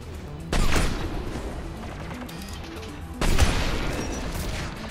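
Black Widow sniper rifle in Mass Effect 3, two heavy, loud shots about three seconds apart, each with a booming, decaying tail over a background of battle ambience.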